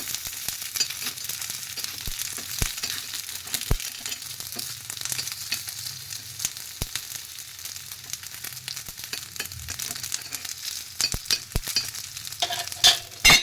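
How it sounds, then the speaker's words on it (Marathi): Fasting appe frying in an appe pan and turned with a spoon, giving a continuous soft sizzle punctuated by scattered clicks and scrapes of the spoon against the metal. "परत चमच्याने परत उलटे पालटे करून घ्यायचे सगळीकडून भाजून घ्यायचे"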